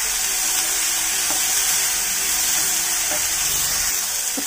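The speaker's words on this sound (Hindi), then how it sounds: "इनको हम लगातार चलाते हुए फ्राई करेंगे" Vegetables and ginger stir-fried for masala khichdi, a steady bright sizzle close by with occasional light stirring knocks, no talk.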